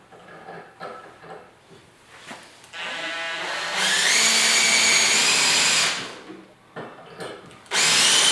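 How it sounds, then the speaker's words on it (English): A power drill with a 1/4 inch bit whines in bursts, rising into a sustained high grinding as it bores through metal, then stops and starts again briefly. "I'll go through the metal with a 1/4 inch drill bit"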